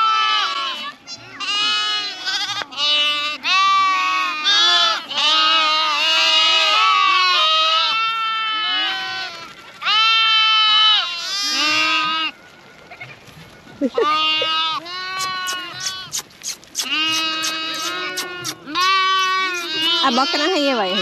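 Young goat kids bleat repeatedly at close range, with high wavering cries overlapping one another in a nearly continuous chorus, sometimes with a person talking nearby.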